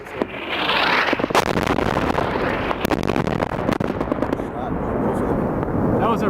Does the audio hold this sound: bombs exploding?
yes